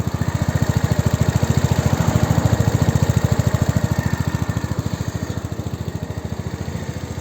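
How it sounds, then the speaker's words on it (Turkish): Exhaust of an RKS Newlight 125 motorcycle idling up close, a loud, steady, rapid putter with even pulses that barely changes in pace, no talk over it. "Egzoz sesini dinletiyorum."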